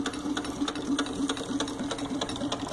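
A small model Denny hot air engine runs fast on a low gas setting, producing a rapid, even mechanical ticking and chuffing rhythm close by with a humming undertone.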